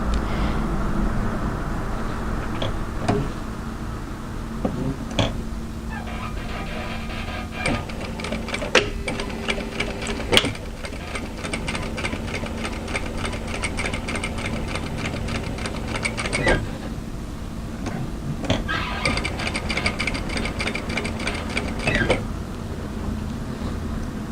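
A sewing machine runs an edge stitch around a dress armhole in two long, rapid whirring bursts, close and steady, with short pauses and quieter handling between them.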